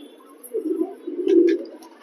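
Pigeons coo nearby in one soft, low, rolling call lasting about a second, rising slightly before it fades, with quiet surroundings.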